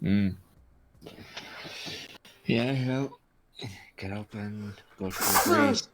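A single sharp sneeze from a player during a tabletop role-playing session, bursting out near the end between stretches of casual conversation.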